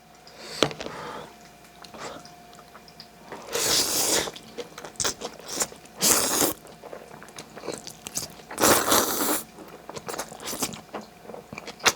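Someone eating spicy jajang ramen noodles at close range, with wet slurps, chewing and occasional louder bursts of slurping and crunchy mouth sounds, uneven and intermittent across the clip.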